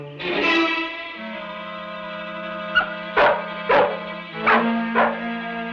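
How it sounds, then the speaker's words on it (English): A dog barks several times in short, processed-sounding bursts over a sustained droning tone, close and fairly loud, with no speech. "That dog's barking might have alerted them."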